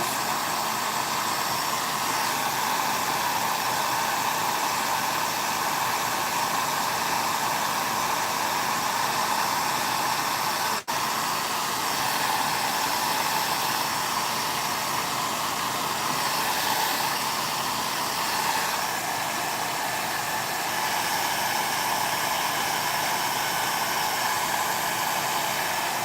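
A hair dryer blows steadily, drying paint on a floral stencil box craft project, a loud continuous airy roar close by that never lets up for the whole stretch, with no talking.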